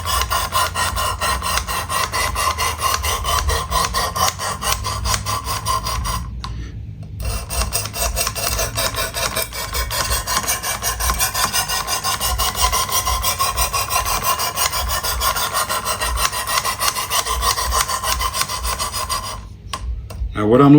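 A knife blade is drawn in even strokes across the abrasive of a Work Sharp Precision Adjust Elite sharpener, giving a close, continuous rasping rub with two brief pauses between passes.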